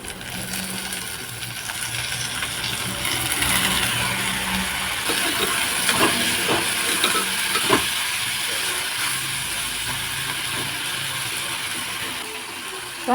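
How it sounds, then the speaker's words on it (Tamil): Onions and tomato sizzle in a pan for a spicy Tamil ivy gourd kulambu, a steady close hiss with scattered crackles and soft clinks throughout, no voices. "இதெல்லாம் நல்லா வதங்கட்டு இப்போ இது கூட தக்காளி கொஞ்சம் சேர்த்துக்கலாம்"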